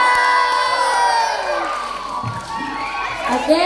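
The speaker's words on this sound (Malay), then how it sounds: "Beri tepukan." Schoolchildren at a primary school mini arts carnival cheer and shout together as a crowd, a loud sustained wave of young voices that swells again near the end, with applause likely blended into the din.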